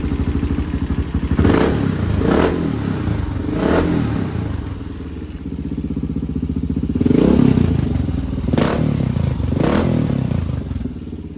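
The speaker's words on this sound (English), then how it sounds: "Very healthy engine." A freshly built HRC XR628R motorcycle engine idles loud and close, a steady low thumping rumble with a few brief blips of throttle rising above the idle, with no talking.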